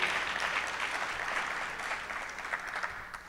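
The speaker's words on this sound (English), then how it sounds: "Feel free to yell or clap for Ruth." Audience applause fills a celebration-of-life memorial honoring a Los Angeles County homelessness advocate, a steady, dense wash of clapping that holds for a few seconds at moderate, slightly distant level with no talk over it.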